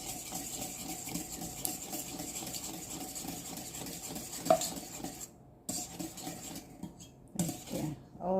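A utensil stirs wet carrot cake ingredients in a mixing bowl, quiet repeated scraping and sloshing at close range with soft clinks, pausing briefly near the end.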